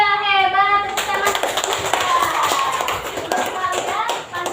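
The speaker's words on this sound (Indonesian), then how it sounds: "Tepuk tangan." Fifth-grade schoolchildren in a classroom breaking into brisk hand clapping after a short sung or spoken phrase, a busy, close patter of many small hands that continues steadily to the end.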